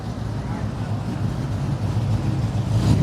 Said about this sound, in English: here comes the lumpy SS from before